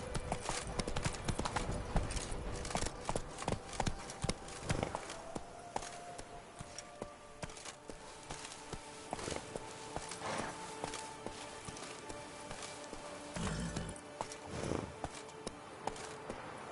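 Galloping horse hooves in The Witcher 3, a steady fast clip-clop of hoofbeats running throughout, moderately close, over ambient game background with no talking.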